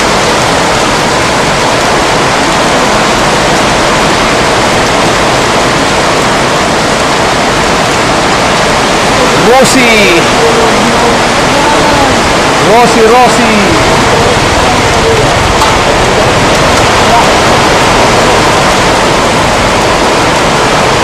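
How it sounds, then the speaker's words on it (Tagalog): Heavy rain pours down in a dense, constant hiss at a stranded roadside stop near a gas station, loud and close, while a voice speaks briefly over it. "Lakas ng ulan."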